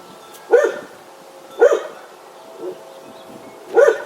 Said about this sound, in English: Because that dog's fucking annoying.